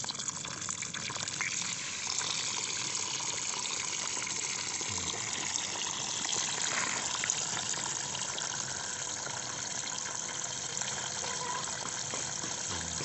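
Water gushes steadily out of a catfish pond filter tank as it drains, a continuous, fairly loud rushing flow that holds at one level throughout.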